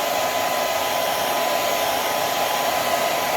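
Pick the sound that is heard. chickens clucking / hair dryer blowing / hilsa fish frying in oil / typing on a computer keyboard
hair dryer blowing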